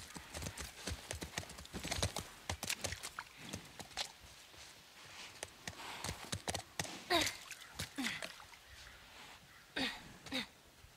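Horse hooves clip-clopping in The Last of Us video game, an uneven series of sharp close hoof strikes on hard ground with brief gaps, plus a snort or two.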